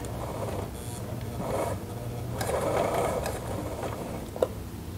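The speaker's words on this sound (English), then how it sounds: "we'll sew up a strip of piping with some 5/32 cording" A walking foot sewing machine stitches a strip of piping with 5/32 cording, giving bursts of mechanical whirring and rattling that start and stop, with a sharp click near the end.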